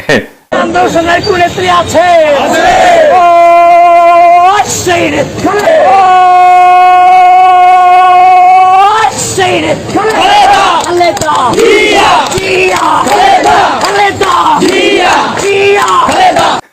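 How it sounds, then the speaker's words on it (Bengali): A large crowd chants slogans in unison in a leader's name at a student political gathering, with loud, sustained rhythmic group voices and drawn-out tonal calls rising above a dense, continuous roar. "নেতার নামে স্লোগান দেয়।"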